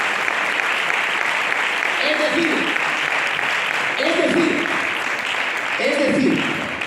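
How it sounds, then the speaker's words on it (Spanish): Church congregation applauding the Lord during a Spanish sermon: a broad, sustained wash of clapping throughout, with a few brief voiced shouts rising above it. "Da un aplauso al Señor."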